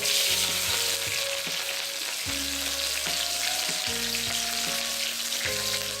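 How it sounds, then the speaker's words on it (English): Green chillies fry in hot oil with seeds and cumin for a fenugreek tomato curry, giving a loud, steady, dense sizzle throughout with occasional stirring, near and continuous. "now add the green chilli"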